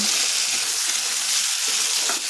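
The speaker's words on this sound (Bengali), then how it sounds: "এখন এটা ভালোভাবে ভেজে নেব।" Winter vegetables, including carrots with turmeric and salt, frying in a pan with a continuous bright sizzle that stays loud and even throughout.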